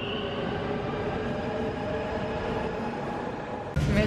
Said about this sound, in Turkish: Bir de aynı durakta iki farklı metro treni geçiyor.